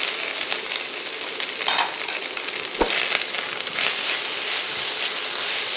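Green beans fry with ground beef in a pan, a steady dense sizzle with occasional stirring scrapes and clinks, close and continuous throughout.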